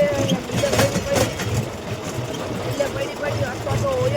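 A farm tractor engine runs with a low, steady rumble while someone talks over it throughout.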